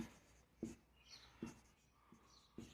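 Several separate strokes of numbers being written on a board during a maths lesson, spaced scratchy marks at a steady pace, faint and close, with no voice over them.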